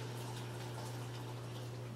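Hot water pours steadily into a bowl of soap for laundry soap booster, a continuous close, moderately loud gushing wash with a low steady hum beneath it and no talk.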